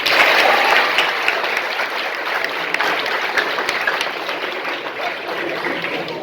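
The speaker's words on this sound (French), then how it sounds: "Applaudissez pour vous." An audience at a storytelling and oral heritage celebration claps loudly and steadily, a dense burst of applause that gradually eases over several seconds.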